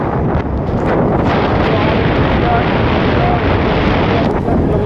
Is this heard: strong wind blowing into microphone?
yes